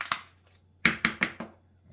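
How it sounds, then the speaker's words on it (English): An oyster shell being cracked open with pliers at home gives one sharp snap, then a short pause and a quick run of four brittle crunches, close and dry with no talking. "crack it"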